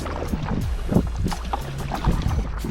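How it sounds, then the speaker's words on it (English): Hard paddle strokes on a BOTE Easy Rider 10'4" kayak hybrid: repeated splashing pulls and water swirl close to the microphone, with wind buffeting steadily underneath. "So doing some harder strokes on this"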